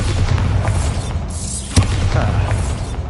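Bombardo explosion spell in the video game Hogwarts Legacy, a single sharp boom that lands partway through amid a busy rumbling game soundscape.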